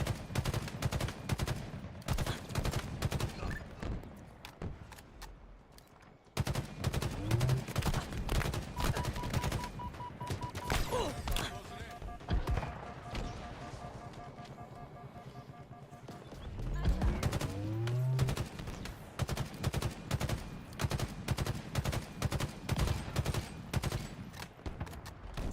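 Rapid game gunfire from Halo Infinite, a DMR-style rifle cracking in fast repeated bursts through a busy firefight, with shouting players talking over the shots and other weapon sounds.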